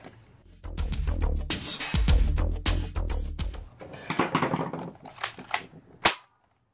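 A modded airsoft front gun with a brass barrel and upgraded spring fires a rapid burst of sharp snapping shots, close and loud, followed by a few scattered single cracks and a last loud shot before silence.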